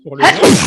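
A single loud, close sneeze bursts out right after a few spoken words, sharp at the onset and trailing off quickly.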